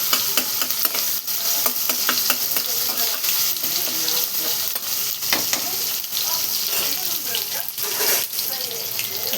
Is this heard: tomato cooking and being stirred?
yes